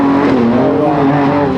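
Off-road race vehicles roar close by at King of the Hammers, a loud, continuous engine drone with a slowly shifting pitch.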